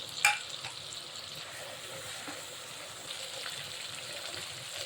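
A ground spice paste with green chili and its soaking water is cooked down in oil, giving a faint, steady sizzle with soft bubbling and a small clink at the start.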